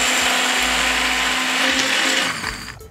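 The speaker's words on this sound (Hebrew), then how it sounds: "ביסקוויטים, דוחפים אותם לתוך הבלנדר. בלנדר של ראסל הופס, הוא חזק ועוצמתי," A powerful Russell Hobbs blender crushes biscuits into crumbs with a loud, steady whirring roar that holds for nearly three seconds before winding down at the end.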